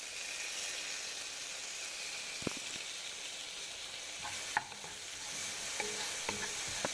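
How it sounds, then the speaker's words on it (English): Onions and tomatoes frying in a pan for a vegetarian Indian keto dish: a steady soft sizzle with occasional clicks and scrapes of stirring. "Fry very well till the tomato gets nice and mushy."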